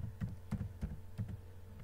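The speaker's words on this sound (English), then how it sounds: "type there Duolingo" Light, quick typing on a computer keyboard, a handful of soft key taps in small clusters, close and quiet with no talking.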